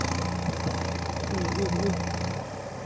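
A low, steady Kubota MU5702 tractor engine idling with a rhythmic chug, continuous and close, with faint voices mixed in; the tractor is stuck deep in a muddy rice field and being winched out.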